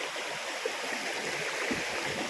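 Clear spring water gushing out of the ground after monsoon rains in the Konkan region, a steady, close rushing and burbling flow with no voices.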